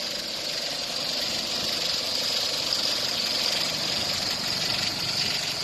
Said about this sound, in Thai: ฟังเสียงเครื่องกันก่อนเนาะให้ฟังเสียงเครื่องกันก่อน